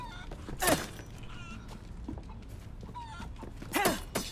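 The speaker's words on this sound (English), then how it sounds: "They're zombie chickens, by the way, so it's fine to kill them pointlessly." Zombie chickens in the video game Resident Evil 4 give two short, sharp squawking bursts, one early and one near the end, with quieter game ambience between them.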